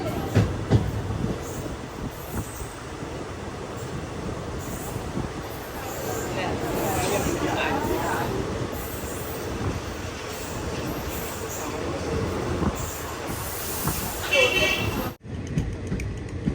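An Intercity Express train pulls out of Nileshwaram railway station with a continuous heavy rumble of wagons and metallic wheel squeal, steady and close throughout before cutting off abruptly near the end.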